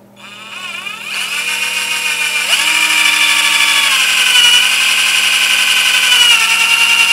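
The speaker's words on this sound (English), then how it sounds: "I've got a 7/32 drill, and we'll drill a hole in there." A power drill with a 7/32-inch bit spins up and whines steadily while boring a hole, its pitch rising then holding, loud and close with no talking.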